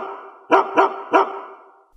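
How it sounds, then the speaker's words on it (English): A dog barks three times in quick succession, close and loud, each bark short and sharp, then a brief tail of quiet. "It's the bark heard round the world."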